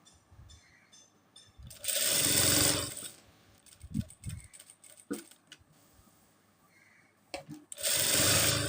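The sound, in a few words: sewing machine stitching a boy's kurta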